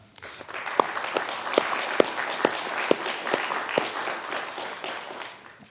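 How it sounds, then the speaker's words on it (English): A crowd applauding steadily for several seconds, a dense patter of many hands clapping with a few sharper individual claps standing out. "if you could join me in a round of applause for them."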